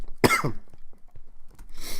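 One harsh, close cough bursts out, followed by quiet shuffling and a short breathy rasp at the end.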